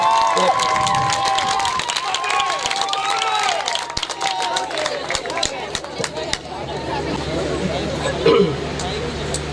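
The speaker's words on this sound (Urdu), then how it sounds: "جناب جواد شیخ صاحب، بھرپور تالیوں سے ان کا استقبال کیجیے۔" A university mushaira audience applauds and cheers as a poet is welcomed, with a burst of claps and whoops over busy crowd chatter, the applause fading into general hubbub with voices talking.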